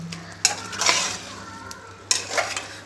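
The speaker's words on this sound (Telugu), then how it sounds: "ఇలా బాగా కలుపుకోవాలి" A spoon stirs and scrapes green chili chicken fry in a pan, giving two distinct scraping strokes over a steady soft sizzle, close and clear with no talking.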